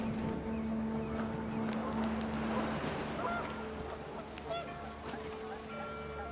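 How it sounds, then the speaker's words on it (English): Panicked geese honk in the video game What Remains of Edith Finch: faint, scattered, fairly distant honks over wind and rumbling ambience. "The wind picked up, and panicked geese appeared and quickly went."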